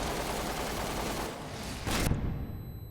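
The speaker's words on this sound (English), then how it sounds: "I like how we did hear the gunfire until now" Rapid gunfire crackles through a dense firefight in the video game Resident Evil 6, with bursts of automatic shots layered over a noisy rumbling background and one louder blast near the end.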